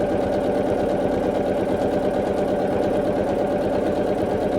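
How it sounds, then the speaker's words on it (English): A sewing machine stitches a quilt at close range, its rapid mechanical stitching hum constant and unbroken throughout, with no voices. "Let the sewing machine do what the sewing machine does."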